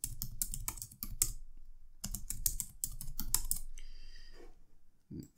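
Close computer keyboard typing comes in quick bursts of clicking keystrokes, with a pause about a second in and a gap before a final few key presses, no talk.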